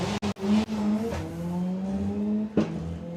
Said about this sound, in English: just love the way this car sounds